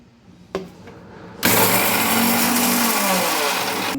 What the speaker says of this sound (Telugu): బరగ్గా మిక్సీ పట్టుకోవాలి